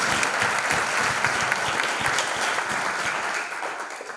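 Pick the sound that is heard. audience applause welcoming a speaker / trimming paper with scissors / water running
audience applause welcoming a speaker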